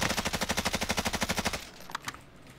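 Rapid automatic rifle fire in a shooter video game, a loud close burst of about fifteen evenly spaced shots lasting a second and a half, then a couple of fainter isolated sounds.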